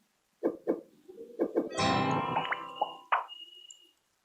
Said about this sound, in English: I want the Flappy Bird to flap when we click and play a wing sound